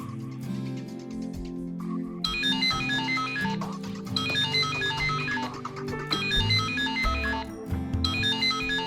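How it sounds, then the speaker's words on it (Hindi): An incoming call sets off a phone ringtone, a loud repeating electronic melody in looping phrases that plays steadily throughout over a low musical background, with no talk. "रितिशा का कॉल आया।"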